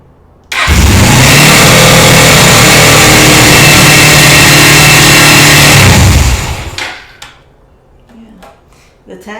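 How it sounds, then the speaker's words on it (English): A car engine with a high-idle fault races loudly at a constant high pitch for about six seconds, then winds down, followed by a few faint clicks and knocks. "it's just revving so super high."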